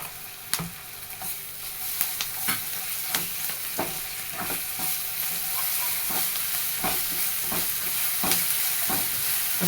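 Ginger-garlic paste sautés in a pan for a Marathi brinjal-potato curry, with a steady hissing sizzle and repeated rhythmic spatula scrapes and taps, close and fairly loud, with no talking.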